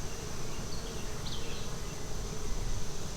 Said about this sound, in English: It's a lot of bee power incoming.